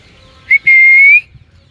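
A person gives a short, sharp whistle followed at once by a longer sustained one, loud and close, over low background rumble.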